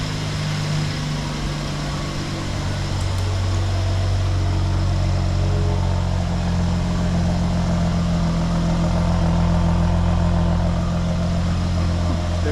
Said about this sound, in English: There we go, that's a cold start.